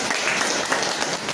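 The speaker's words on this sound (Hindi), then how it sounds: "एक बार जोरदार तालियां होनी चाहिए" Audience at a school thanksgiving gathering bursts into loud applause, a dense, continuous wash of clapping from many hands filling the brief moment.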